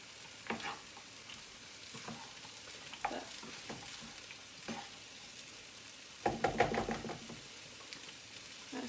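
African-inspired fried rice is stirred in a frying pan, soft scraping strokes over a low sizzle, with a busier burst of stirring near the end, close and fairly quiet.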